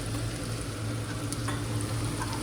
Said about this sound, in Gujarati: તેલમાં મેં નાખ્યું હતું રહી જીરું લસણ મરચાંની પેસ્ટ અને હિંગ